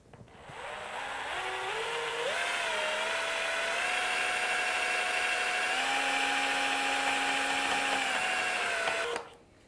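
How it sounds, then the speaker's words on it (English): A power drill mixes white interior wall paint in a bucket, giving a loud, steady motorised whine that runs continuously for several seconds, its pitch stepping up and shifting slightly before cutting off abruptly at the end. No one speaks. "There you can see the paint mixing."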